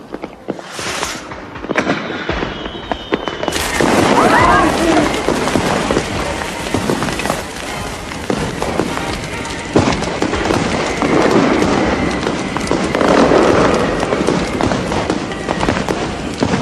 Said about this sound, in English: All the extra guests will be arriving for the fireworks soon anyway.